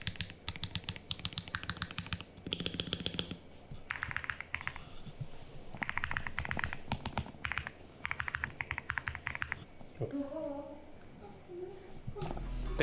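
Rapid typing on a custom-built mechanical keyboard, close and crisp, in bursts of clicky keystrokes with short pauses between runs; a voice murmurs briefly near the end.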